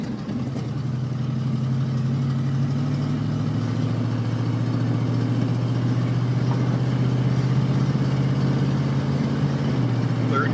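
Steady, loud engine drone of a 1977 Firebird being driven, a low mid-pitched hum holding constant with slight throttle changes and a small shift in tone near the end.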